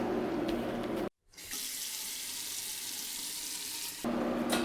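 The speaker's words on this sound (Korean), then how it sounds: "이렇게 해서 물이 팔팔팔팔 끓고 있죠?" Water at a rolling boil in a pot while preparing vin chaud with oranges and lemons, heard up close as a steady rushing hiss that cuts out briefly, then resumes.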